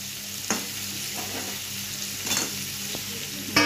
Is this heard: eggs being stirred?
yes